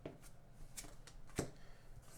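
Cards are drawn and handled during an Aeon's End board game, giving a few quick papery flicks and slides at close range with faint room noise between them.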